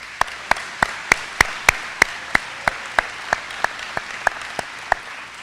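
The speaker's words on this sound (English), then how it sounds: "Please give them a round of applause." Clapping from the audience at a 2019 high school commencement ceremony in an auditorium comes as sharp single claps in a steady, evenly spaced rhythm, about eighteen beats in a row, fairly loud and clear.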